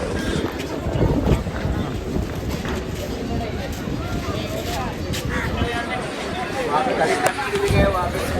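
Steady wind at Baga Beach, Goa, buffets the microphone in a broad rushing roar, with a voice talking intermittently underneath.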